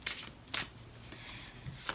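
A deck of angel oracle cards being shuffled close up, with three quick riffle bursts over a soft, continuous rustle of cards sliding together.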